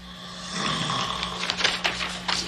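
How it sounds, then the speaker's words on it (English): A man snores loudly and unevenly in a scene from a 1960s western TV series, with raspy, rattling breaths close up over a low steady hum. "You couldn't hear anything over that snore."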